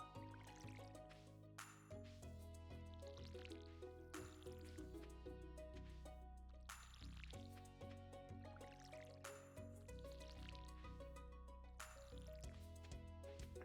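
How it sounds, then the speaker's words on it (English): Watering crops with a watering can in the farming game Stardew Valley: soft splashy water bursts recur about every two to three seconds over steady, loud in-game music. "Let's water some plants here because these have not been watered in a hot minute."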